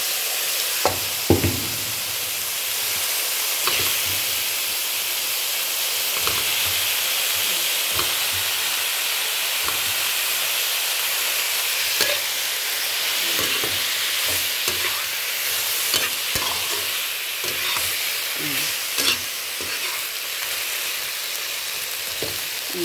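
Shrimp sizzle and fry in a pan, a steady broadband crackle running throughout with occasional sharper pops and scrapes of stirring.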